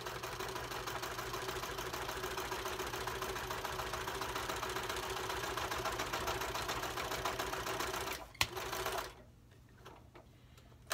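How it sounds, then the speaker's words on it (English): A heavy-duty old metal sewing machine stitches through a wooden ruler with a loud, steady, rapid mechanical clatter that runs for about eight seconds, then stops abruptly, leaving quiet room noise. "We're going to go ahead and stitch on this ruler with this really heavy-duty machine"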